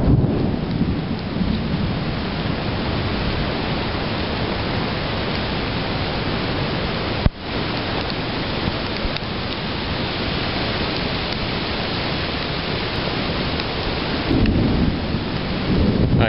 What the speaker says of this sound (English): it's like raining and there's freezing lightning everywhere